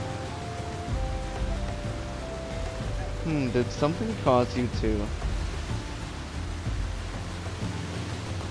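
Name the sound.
rain in the video game Final Fantasy XIV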